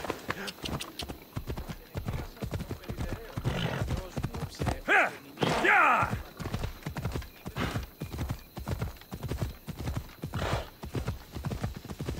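Horse hooves clip-clop at a steady galloping rhythm in Assassin's Creed Odyssey, loud and continuous, with a brief whinny in the middle and a voice urging the horse on.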